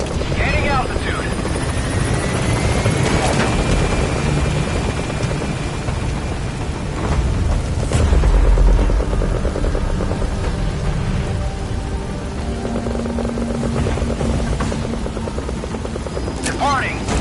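Video-game helicopter climbing away from a landing zone, a steady loud rotor and engine roar that swells around the middle and holds throughout, with radio-style voices talking over it.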